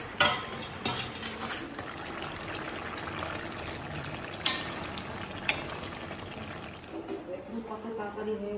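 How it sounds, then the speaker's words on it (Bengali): Fish frying in a pan in a home kitchen gives a continuous sizzling hiss, with a couple of sharp utensil clinks and some stirring sounds toward the end. "মাছ ভাজা হবে,"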